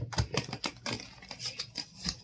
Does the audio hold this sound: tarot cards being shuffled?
yes